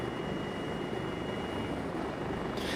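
Eurocopter HH-65 Dolphin Coast Guard helicopter in flight in a flight simulator game: steady, dense turbine and rotor drone, constant and fairly loud throughout with no voices.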